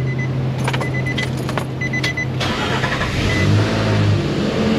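A Nissan Xterra in a repair shop, after a crank sensor repair, starts and runs, its engine loud and close with a steady hum that swells as it catches and settles into idle.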